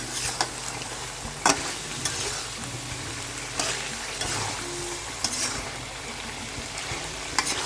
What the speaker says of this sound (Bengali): ঢাকনাটা উঠিয়ে আবার একটু নাড়াচাড়া করে নিচ্ছে নাড়াচাড়া করে এভাবে কষিয়ে নেব